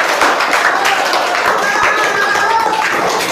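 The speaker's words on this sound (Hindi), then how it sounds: "बहुत अच्छे, जोरदार ताली तौसीफ के लिए।" An audience clapping for a participant named Tausif, a brief burst of brisk, fairly loud applause heard close by and lasting only a few seconds.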